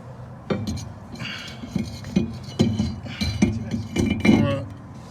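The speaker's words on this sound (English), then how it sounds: "now I'm gonna go ahead and install the rotor" A brake rotor from a Ceika front big brake kit goes onto the hub of a GT-SIX, giving a series of close metallic clinks and clunks at an irregular pace.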